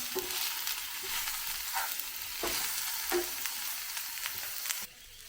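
Brinjal and egg masala frying in a pan, a steady loud sizzle broken by soft periodic scrapes of a spoon stirring, then dropping quieter near the end.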